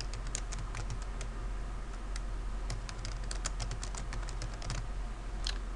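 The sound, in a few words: typing a document name on a computer keyboard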